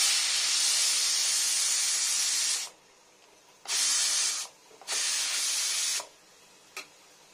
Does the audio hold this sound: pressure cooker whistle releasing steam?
yes